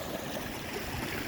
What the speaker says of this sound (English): that's just a ton of water coming down the mountain